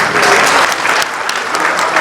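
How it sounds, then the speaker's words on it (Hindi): Loud, dense applause from an audience welcoming a party leader and former minister at a press conference, a continuous close clapping wash that swells and dips slightly, with no distinct voices over it. "जोरदार तालियों के साथ हम इस्तकबाल करते हैं।"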